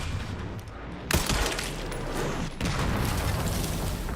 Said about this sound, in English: they definitely sped up how fast these guys are shooting